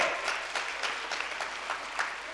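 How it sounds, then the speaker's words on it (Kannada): A crowd applauds at a religious gathering honouring a revered swami of a Kannada math, the clapping fairly faint and steady with a few sharper bursts, no voices over it. "ಜೋರು ಚಪ್ಪಾಳೆ"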